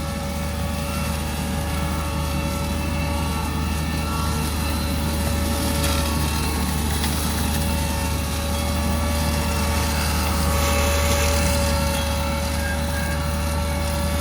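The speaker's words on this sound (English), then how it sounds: "That hedge cutter's running really quiet." A tractor-mounted hedge cutter running steadily, giving a continuous, even mechanical drone with a low engine hum and a whirring cutter tone that holds for the whole stretch without pauses.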